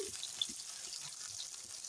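Potatoes frying in a pan with salt and turmeric for banana-flower ball prep, giving a steady soft sizzle with a faint crackle, continuous and fairly quiet throughout.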